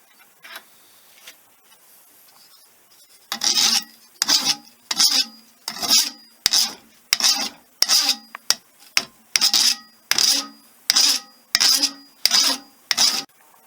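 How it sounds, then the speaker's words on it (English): A hand file rasps across a curved metal surface held in a vise, a faint start followed by about a dozen loud, evenly paced strokes, each a harsh scrape, with no talking. "Whenever you're filing a curved surface, it helps to start like this and rock the file back."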